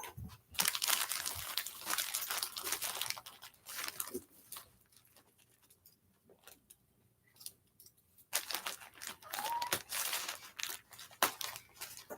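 Close crinkling and snipping of plastic packaging being cut with scissors, in several bursts separated by a quiet pause.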